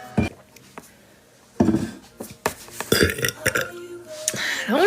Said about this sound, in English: A little burp.